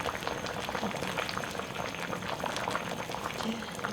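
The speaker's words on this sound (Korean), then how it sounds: "잘 끓는다." Pork neck-bone soup for gamjatang bubbling steadily in a pot, a continuous close, dense burble of rolling boil with no talk over it.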